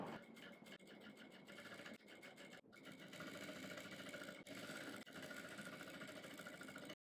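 A sewing machine runs steadily while stitching a blouse waistband, its motor humming with a close, continuous rattling rhythm and a few brief pauses, with no talking.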